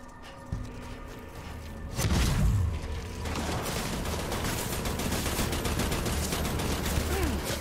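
Enemy gunfire in the video game Death Stranding, a sustained barrage of rapid shots with a heavy boom partway through, loud and continuous, with a person's voice occasionally over it.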